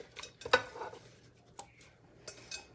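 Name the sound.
broccoli florets added into a PC Deluxe cooking blender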